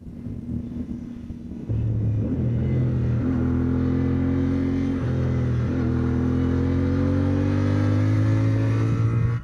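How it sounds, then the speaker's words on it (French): A CFMOTO Ibex 450 adventure motorcycle engine idles smoothly, then revs up into a steady, even drone with rising pitch steps, close and loud without voices. "voir comment fonctionnait le moteur de cette moto, comment il tournait, s'il était sec"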